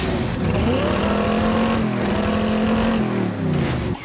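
A street rod car at a Kansas cruise event revs its engine up close, rising to a steady throaty roar that holds for a couple of seconds and then drops back, loud and alone.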